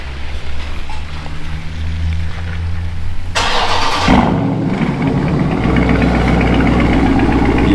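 A blacked-out Dodge Scat Pack car starts warm in a snowstorm: a steady low idle, then a sharp loud burst as the engine catches near the middle, settling into a deep, rumbling, close idle.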